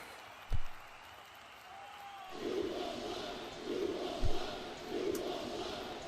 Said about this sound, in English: It sounds like the crowd has spoken